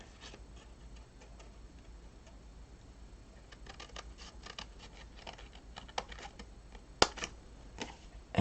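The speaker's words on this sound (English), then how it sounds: "we're just going to grab our scissors" Scissors cutting through card stock for a handmade mailbox gift card holder, a quiet, close series of small snips and paper clicks in an irregular rhythm, ending in a couple of sharper snaps.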